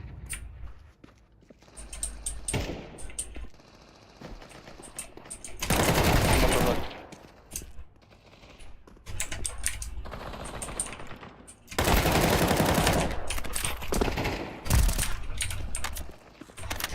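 Video game gunfire at the mid position of a map, heard as loud rapid automatic bursts around six and twelve seconds, with scattered single shots and quieter stretches between them.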